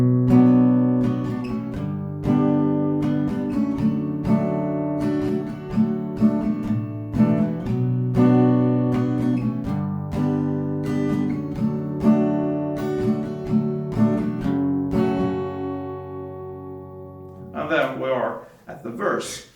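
Acoustic guitar picking out the intro of a song slowly, steady plucked notes and chords ringing close and clear for most of the passage, followed by brief speech at the end.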